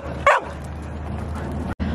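A dog gives one sharp, close bark just before heading out on a walk, over a steady low hum that runs through the rest of the moment.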